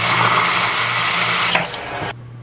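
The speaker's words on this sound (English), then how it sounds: "I think the water's coming back." A tap runs hard with water returning after an outage of brown water, a steady close rushing stream that cuts off abruptly near the end.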